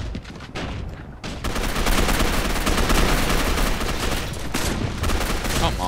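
Dense, loud bursts of automatic gunfire from the video game Gotham City Impostors, continuous rapid shots after a short pause, close and overlapping with game noise.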